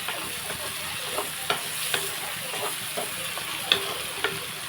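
Tomato and raw mango pieces fry in a pan for an egg, silver fish and mango curry, giving a steady close sizzle with a few light stirring clicks and scrapes throughout.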